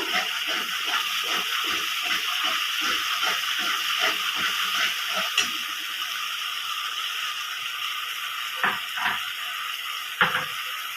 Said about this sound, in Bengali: বাটাটা আমি দিয়ে দেবো ভালো করে কষিয়ে নেব